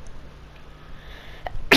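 A single short, sharp sneeze bursts out at the very end after quiet room noise and a faint click.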